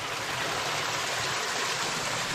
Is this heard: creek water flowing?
yes